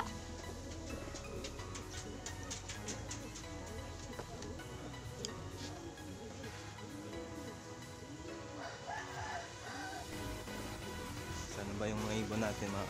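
Pigeons cooing close by, soft repeated coos with clicks and ticks over a busy background, with people talking throughout.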